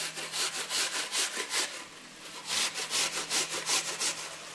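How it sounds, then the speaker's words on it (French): A peeled, cored apple is rubbed down a coarse grater for a Christmas turkey stuffing, making a steady run of quick, raspy scraping strokes in an even rhythm with one brief pause, close up and without speech. "on va la râper, donc avec la grosse râpe"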